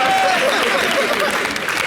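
Studio audience clapping steadily on a French-language local TV show after a team's winning score is announced, a dense, continuous patter with a voice faintly talking over it.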